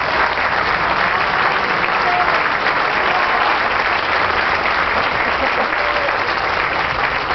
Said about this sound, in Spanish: sí quisiera pedirles un aplauso.